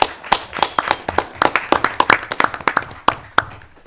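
An audience at a town commissioners meeting claps for a few seconds, a moderate scattering of hands with uneven, overlapping claps that thin toward the end.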